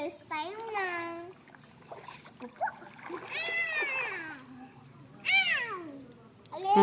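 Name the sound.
cat meowing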